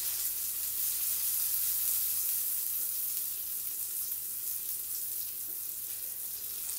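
Mushrooms brown in a hot pan for boeuf bourguignon, giving off a steady, close, hissing sizzle with faint crackles that runs throughout without any voices.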